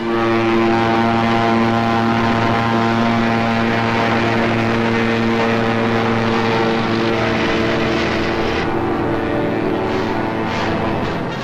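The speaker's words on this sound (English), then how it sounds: "High overhead, British fighter planes fought the Luftwaffe to a standstill." WWII British fighter planes flying overhead, a loud sustained drone of piston propeller engines with steady harmonic hum that holds for several seconds before easing slightly, with no talk.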